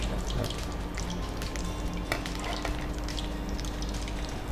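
Aloo bonda, potato dumplings in chickpea batter, frying in hot oil, giving a steady close crackling sizzle with scattered sharper pops throughout, no voices.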